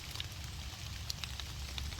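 Rain falls steadily on the grounds of an old Civil War fort, a soft, constant hiss with scattered nearby drip taps throughout.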